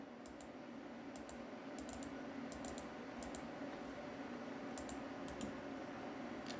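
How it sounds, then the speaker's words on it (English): Sparse, crisp clicks from a computer mouse, a few at a time in small groups, faint against a low steady electrical hum, with a sharper thump right at the end. "I'll click it."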